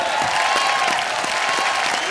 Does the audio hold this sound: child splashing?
no